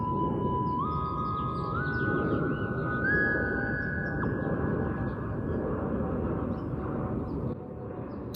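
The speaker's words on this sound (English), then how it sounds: "there's an airplane flying over right now." An airplane passes overhead outdoors, a steady broad roar that fills the whole stretch, with thin electronic tones from a plant-music sensor stepping up in pitch on top.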